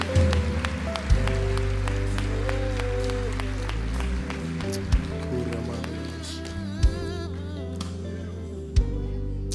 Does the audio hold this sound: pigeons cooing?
no